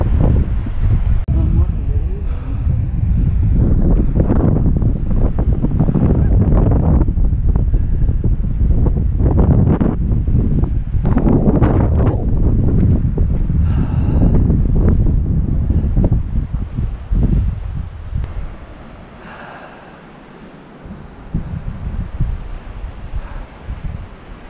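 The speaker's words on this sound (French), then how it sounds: "Mais il y a un putain de vent." Strong wind buffets the microphone on a beach of the Crozon peninsula, a loud, continuous gusting roar that surges and eases, with people talking beneath it.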